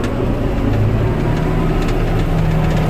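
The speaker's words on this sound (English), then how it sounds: "add shitloads of revs." A John Deere tractor fitted with a Reco straw chopper runs its engine at high revs, giving a loud, steady low rumble with no pauses or talk.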